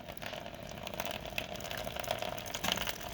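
Water draining from an espresso coffee machine with a thermal reserve, a steady close trickling and gurgling flow with a faint hum underneath, continuous and moderately quiet.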